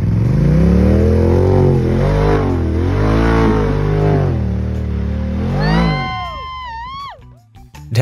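A powerful car revs hard as it climbs out of a pit, its loud engine note rising and falling in strained surges before winding down, then a few clunks and a final jolt close by.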